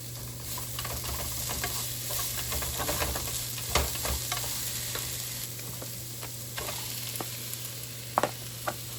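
Chopped onion frying in a hot pan, a steady dense sizzle with occasional stirring clicks and scrapes, close and continuous with no talking.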